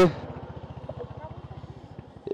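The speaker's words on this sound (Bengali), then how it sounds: "রয়্যাল এনফিল্ডের বাইকগুলো সাউন্ডের জন্য বিখ্যাত" A Royal Enfield Hunter 350 motorcycle from 2025 idles with an even, rapid low thumping pulse. Someone talks over the engine throughout.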